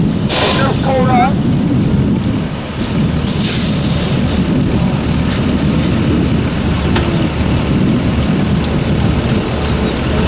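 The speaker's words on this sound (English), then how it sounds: "The EMS has just pulled up." An EMS emergency vehicle pulls up at a staged crash scene, a loud hissing air-brake release over a rumbling engine, with people talking throughout.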